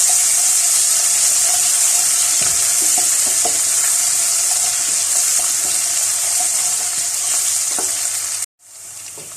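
Continuous loud sizzling of onions frying in a pan, with occasional stirring scrapes, ending in a brief cut near the end.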